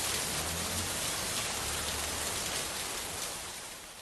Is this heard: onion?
no